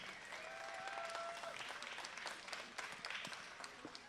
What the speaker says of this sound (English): Let's give these guys another big round of applause.